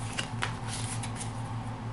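Playing cards shuffled during Resident Evil 2 play, giving a short riffling flutter over a steady low game hum.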